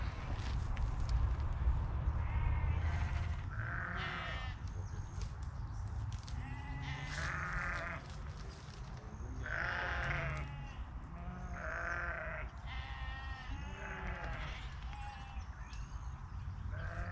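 Sheep bleat repeatedly near a lagoon, several separate calls at mid distance over a low steady wind rumble, with no speech.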